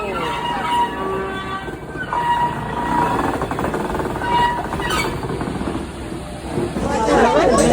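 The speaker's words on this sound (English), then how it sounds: "speak of the cane train, here comes one now, hauling loads and loads of sugar cane from the fields directly to the mill" A sugar cane train hauling loads of cane from the fields to the mill rumbles past nearby, loud with clattering wheels, and grows stronger toward the end while a voice talks over it.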